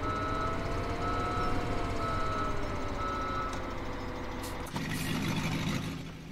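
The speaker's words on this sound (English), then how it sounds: "All right, there goes the truck." A truck rumbles past in the farming video game Farming Simulator 17, a steady loud engine drone with a faint tonal whine that shifts and then fades near the end, with no talking.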